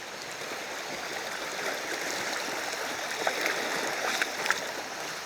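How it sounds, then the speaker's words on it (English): River water rushing and splashing against someone wading through a current, a steady close wash with small sharper splashes toward the end. "It's more just the water that's splashing up with the resistance."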